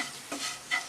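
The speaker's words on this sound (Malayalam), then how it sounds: "പൊടികളുടെ ചൊവയും പച്ചമണവും എല്ലാം ഒന്ന് മാറുന്നോളം വരെ ഇളക്കി കൊടുക്കാം" Spice powders being stirred while frying in a pan for a Kerala pork curry, a soft scraping sizzle rising in two brief swells over a steady hiss, with no talking.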